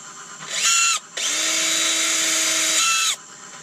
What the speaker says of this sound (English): Everyone recognise the dulcet tones of my rubbish Stanley Fatmax?